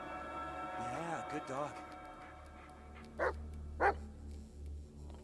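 A dog in the Blair Witch video game gives two short, sharp barks a little over half a second apart, following a stretch of someone talking, over a low ambient game drone.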